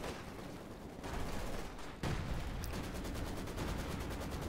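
Rumbling bombardment and gunfire in the video game Company of Heroes 2, a dense, continuous barrage with sharp jumps in intensity around the first and second seconds, heard without talk.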